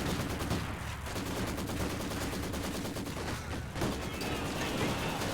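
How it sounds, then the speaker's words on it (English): A Maxim machine gun firing in the video game Company of Heroes 2, loud rapid sustained bursts of automatic fire with other battle noise around it. "Maxim firing away"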